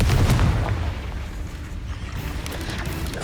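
Spell explosions in Hogwarts Legacy on PlayStation 5, a deep booming blast at the start that rumbles low and fades into a sustained roiling layer of combat noise, loud and close without voices.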